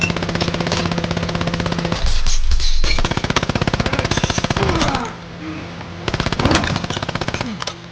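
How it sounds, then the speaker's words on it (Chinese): An armed drone hammers a room with machine-gun fire in an action movie scene: long, rapid, evenly spaced bursts, loud and close, with a brief lull partway before the firing resumes. "窗外突然出现了一架武装无人机，对着他们所在的房间就是一顿火力输出"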